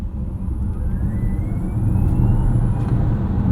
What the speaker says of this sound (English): We got to do a quick launch control.